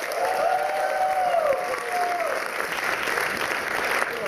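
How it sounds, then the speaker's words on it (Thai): A crowd applauds nine talent-show teams at an Amway event aboard the cruise ship Norwegian Star, sustained clapping under a faint vocal tone early on, steady and moderately loud throughout. "ขอเสียงปรบมือกับทั้ง9ทีมอีกครั้งด้วย"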